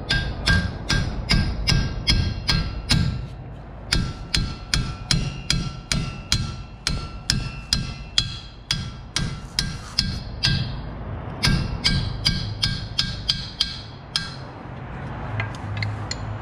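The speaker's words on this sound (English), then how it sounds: "Hit it with a hammer." Repeated sharp metallic hammer blows on a Chevrolet 2500HD 4x4 wheel bearing ring out in quick bursts, pausing briefly between series, close by with a clanging, ringing quality.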